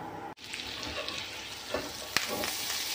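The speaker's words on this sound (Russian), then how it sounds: "Буду жарить на сливочном масле мои спагетти." Spaghetti frying in butter in a pan, giving a steady close sizzle with a few brief stirring clatters and one sharp tap partway through.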